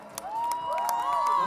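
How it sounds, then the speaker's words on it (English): A crowd at a motorcycle stunt-riding show cheers and whoops in a brief, fairly faint burst, with sharp claps popping through the shouting. "Round of applause for Rafi."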